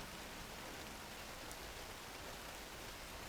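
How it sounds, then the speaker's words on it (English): Rain falls outside in an even, soft wash of hiss, faint and unbroken, with no voices. "Rain continues outside."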